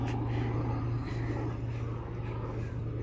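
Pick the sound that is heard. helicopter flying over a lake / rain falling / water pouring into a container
helicopter flying over a lake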